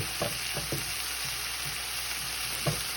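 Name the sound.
onion and vegetables sautéing in a pan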